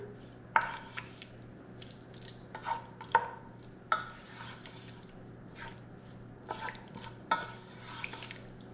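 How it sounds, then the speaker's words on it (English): A spoon stirs creamy alfredo sauce with cheese in a pan for chicken pasta, making soft, scattered scrapes and clinks at close range over a faint, steady background hum. "So let's stir that all together."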